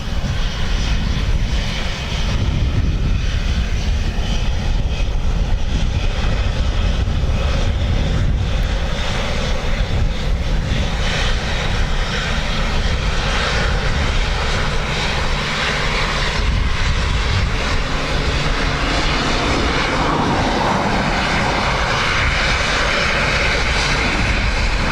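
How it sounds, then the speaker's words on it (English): A Ryanair airliner landing at Dublin Airport on a windy day, its engines giving a loud, continuous roar and rumble that swells slightly and holds throughout, heard from nearby outdoors. "Ryanair 18 Kilo Bravo, the surface wind is 240 degrees 12, max 20, minimum 5 knots, runway 28 left, clear to land."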